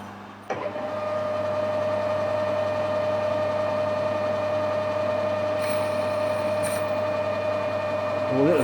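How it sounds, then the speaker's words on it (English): A machine tool runs steadily while cutting a flat bottom into a hole in a hydraulic test pump body, giving a constant droning hum with a faint whine and brief higher tones part way through, no voices. "let's put a nice flat bottom in the hole for the washer to seal on"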